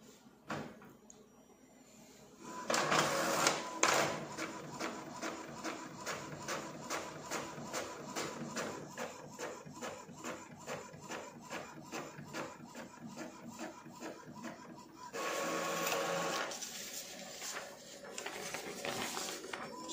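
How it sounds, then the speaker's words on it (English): Printer feeding and printing a document on plain paper, with repeated rhythmic mechanical sliding and rubbing strokes, louder bursts near the start and end, close and fairly quiet, with no talking. "So let's try to print this."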